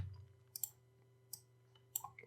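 Computer keyboard keys pressed during map editing, including the G key, giving a few sharp, quiet clicks spaced apart over a steady low hum.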